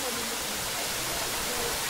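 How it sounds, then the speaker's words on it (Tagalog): Batlag Falls waterfall roars as a steady, broadband wash of falling water, close and continuous with no break across the short stretch. "O yun, ito na yung Batlag Falls"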